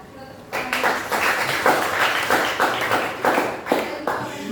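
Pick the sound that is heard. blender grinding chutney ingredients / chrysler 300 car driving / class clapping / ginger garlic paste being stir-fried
class clapping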